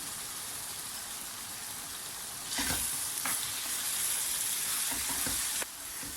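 Minced meat sizzles steadily in a pan as walnuts are added for stuffed kibbeh filling, a constant close hiss that swells louder midway with a few brief scraping stirs, no voices.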